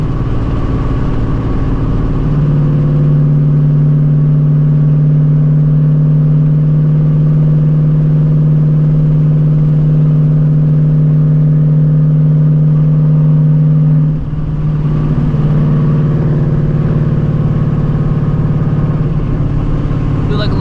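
A Ford S650 Mustang GT in drag mode holds a loud, steady engine drone at high revs before the pitch drops and then climbs again, close and continuous.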